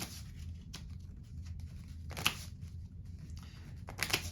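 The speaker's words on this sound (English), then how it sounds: "we are clearly shuffling face up into face down" Playing cards are shuffled face up into face down during a card trick, giving soft riffling and sliding flutters in short bursts, with sharper snaps near the middle and end, close and quiet.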